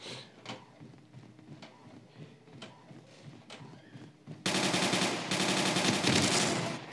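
Bursts of automatic gunfire from a first-person shooter game, Elite Strike, erupt loudly and densely for the last few seconds after quieter clicks and shuffling.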